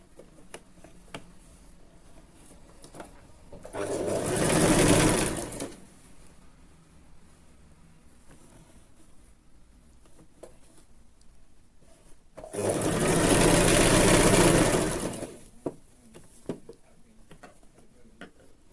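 A sewing machine stitches a seam on folded dress fabric in two bursts of a few seconds each, loud and whirring against a quiet room with faint ticks between.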